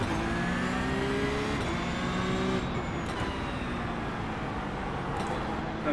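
A Porsche Cup race car in iRacing, racing at Circuit of The Americas, revs hard with a rising then shifting engine whine, loud and continuous, with brief voice chatter over it.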